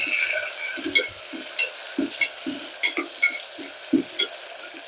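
Tomato sautéing in a pan of biryani base, a soft continuous sizzle broken by a steady series of scraping stirs and light spoon-on-pan knocks, close and moderately loud with no talking.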